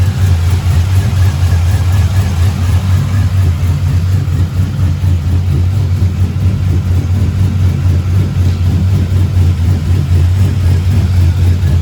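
A 6.2 engine idles steadily and loudly up close, a deep continuous low rumble with a constant throb and no talking over it.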